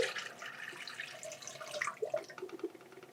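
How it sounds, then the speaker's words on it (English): Pre-bath liquid poured out of a film developing tank during home color film processing, a soft quiet splashing trickle with a few gurgling drops toward the end, alone. "Now I'm pouring out my pre-bath"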